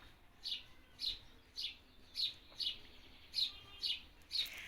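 Small birds chirp in a quiet setting, giving about eight short, high tweets at an even, steady rhythm. The calls sound faint and somewhat distant against soft background hiss.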